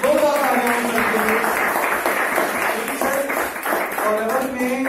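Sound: loud audience applause

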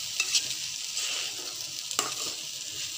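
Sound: stirring Rayalaseema uggani (puffed rice upma) in a pan

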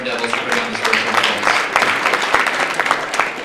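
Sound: applause

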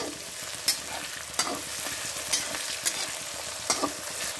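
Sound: green chillies, ginger and onion frying on full flame

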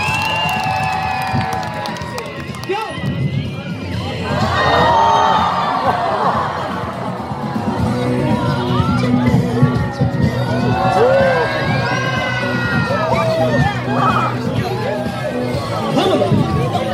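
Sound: audience applause and cheering at festival

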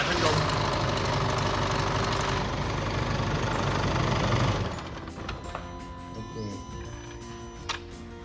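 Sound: Isuzu D-Max 2012 engine started and idling

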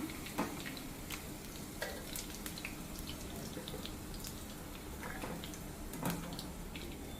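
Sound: okra (ladies finger) frying in oil

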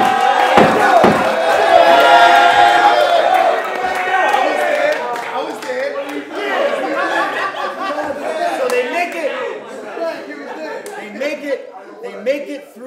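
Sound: crowd whistling and cheering

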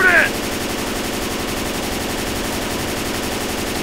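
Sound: gunfire in the video game Left 4 Dead 2

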